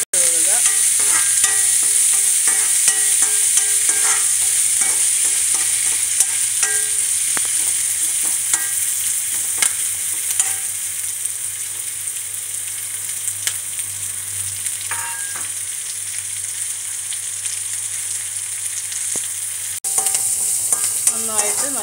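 Ginger, garlic, kanthari chilli, mustard seed, fenugreek and curry leaves frying in sesame oil for a lime pickle, a loud steady sizzle with scraping stirs throughout, no talking.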